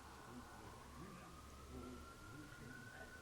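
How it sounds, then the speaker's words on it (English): A wailing emergency vehicle siren carries from outside, a steady rising tone held under low room rumble and faint background noise throughout. "Sorry for the sirens."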